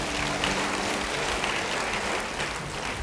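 A church congregation breaks into applause, a dense, steady wash of clapping from many hands that fills the room evenly for a few seconds with no voices rising above it.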